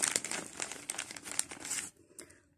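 A red plastic bag holding small crocheted rings is handled nearby. It gives a quiet run of crinkling and rustling bursts that stop abruptly, followed by a few faint rustles.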